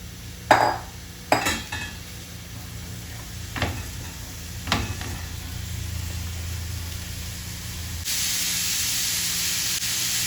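Chopped onions hit hot ghee in a pan with a few sharp clatters, then a steady soft sizzle that swells into a louder, bright hiss near the end.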